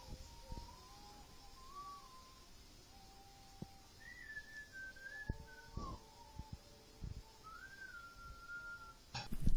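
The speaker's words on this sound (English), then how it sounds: "Now the whistling and noise you hear in the background is the actual soundtrack of the video." Wavering whistling tones drift up and down over a steady background hiss and occasional clicks and thumps, a low-level soundtrack with no speech.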